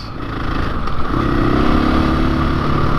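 A KTM motorcycle engine idles and hums steadily nearby, its stock exhaust a low, fairly subdued rumble throughout.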